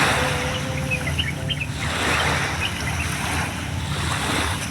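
Sea waves wash in at a sunny beach, a loud, continuous roar of surf mixed with wind buffeting the microphone and no voices.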